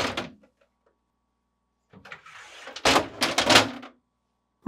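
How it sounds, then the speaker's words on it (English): A GE French door refrigerator door is lifted off its hinges and pulled free, giving a short clunk, then a quiet pause, then a run of close plastic scrapes, knocks and rattles. "Then pull the doors forward, lift up, and pull out to remove."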